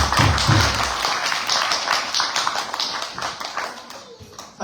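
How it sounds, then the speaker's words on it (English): Applause from a lecture audience during a Gaura Purnima gathering: dense, close hand clapping that starts loud and gradually thins out over a few seconds. "Let's give him a round of applause."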